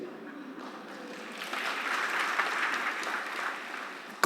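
A church service audience claps, starting faint and swelling into a steady round of applause before tapering slightly.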